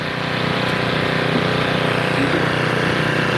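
A 1904 Minneapolis steam traction engine's blower runs as a steady, loud, continuous rushing roar, close by and unbroken for the whole stretch.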